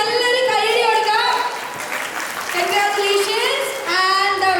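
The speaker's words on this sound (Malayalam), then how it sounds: "രമ്യ ചേച്ചിക്ക് നല്ലൊരു കയ്യടി കൊടുക്കാം" Audience clapping for a runner-up at a game event, sustained dense applause mixed with a voice talking over it and brief cheering, loud and close throughout.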